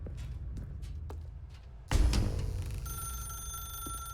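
A telephone in an office in the video game The Stanley Parable starts ringing partway through, a bright sustained bell tone that follows a few soft footsteps and a thump.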